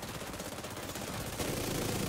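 Rapid gunfire from The Division 2 video game, a dense, continuous rattle of shots at moderate level with no talk.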